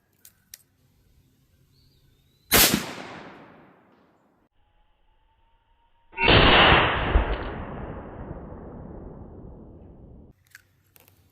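Two loud revolver shots fired at watermelons outdoors, each a sharp crack followed by a long decaying echo, the second blast louder with a longer trailing rumble.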